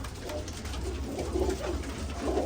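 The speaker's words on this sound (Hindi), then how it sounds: "ये सारे घर के बनाए हुए कबूतर हैं रायल भाई के" Soft coos from home-bred pigeons in Rampur repeat a few times over a steady low hum, fairly quiet and close by, with no talking.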